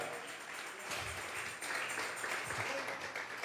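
Faint, distant applause from a church congregation at a Sunday service swells briefly, blended with murmuring voices in a large room.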